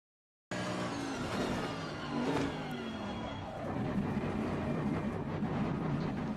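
Race car in Assetto Corsa Competizione braking for the pit entry at Imola, loud continuous engine drone with pitch sweeping down as it slows, ending in a steady low rumble.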